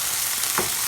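Very hot chilies sizzle in a hot pan with salt and black pepper for a Colombian paisa breakfast, a loud, steady frying hiss with bubbling crackle close up.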